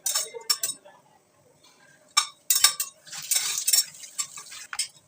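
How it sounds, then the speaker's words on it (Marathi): Whole cloves, black peppercorns and bay leaf frying in oil in a pan, with a soft sizzle under sharp metallic clinks and scrapes of a spoon stirring against the vessel, coming in irregular bursts with quiet gaps. "खडे मसाले परतून झालेत ना तेलात"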